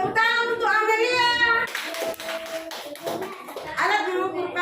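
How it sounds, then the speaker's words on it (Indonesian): Classroom of children clapping together for a classmate, a burst of rapid, close hand claps between stretches of a teacher's and children's talk. "Tepuk tangan untuk Amelia."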